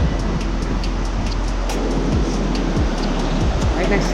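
A river rushes right beside a trekking path near a footbridge on the way from Phakding to Namche Bazar toward Everest Base Camp, giving a steady, loud broadband wash of flowing water with faint low rumbles underneath.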